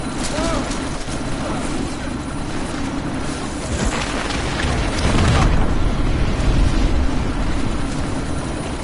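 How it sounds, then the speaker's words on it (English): A helicopter's rotors and engine roar continuously as the aircraft prepares to lift off in Deus Ex: Mankind Divided, loud and close, with a dense, swelling wash of blade thump and turbine noise. "That chopper's about to take off!"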